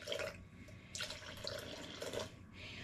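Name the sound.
pouring lukewarm water into sourdough starter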